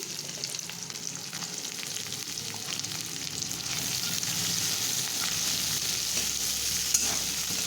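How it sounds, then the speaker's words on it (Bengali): Chopped onion, garlic, green chilli and ginger paste fry in oil, a continuous bright sizzle that grows slightly louder as they are stirred, with faint spatula scrapes and no voices. "এটাকে খুব ভালো করে লাল হয়ে আসার আগে পর্যন্ত নাড়াচাড়া করে ভেজে নেব"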